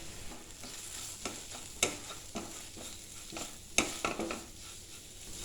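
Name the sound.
stirring spice powders in a pan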